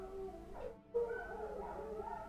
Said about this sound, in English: The dogs are really, really going wild.